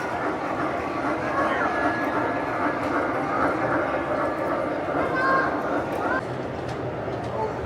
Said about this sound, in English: Oh, here comes the Christmas train.